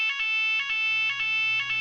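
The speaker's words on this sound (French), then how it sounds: "il a trouvé un nouvel équipement de la Gaillette, qui est pourtant là depuis bien longtemps, c'est l'alarme incendie." Fire alarm at the La Gaillette football training centre, a loud electronic tone pulsing in steady repeated bursts, sounding on its own.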